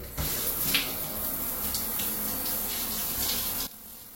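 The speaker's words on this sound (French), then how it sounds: "Donc là, c'est parti, je vais rincer." Steady rush of running shower water rinsing a surface during a big cleaning job, continuous and fairly close, cutting off abruptly near the end.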